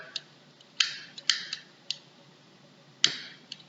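Several sharp mechanical clicks from a lab gas lighter, close and crisp, come in an irregular series with quiet gaps between them.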